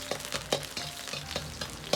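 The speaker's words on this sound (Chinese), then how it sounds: "锅中再次下入适量的葱油，接着下入葱白段，煸炒出香味" Scallion white segments stir-fry in scallion oil in a wok, hissing steadily with repeated scrape-and-toss strokes of the spatula, close and moderately loud with no voices.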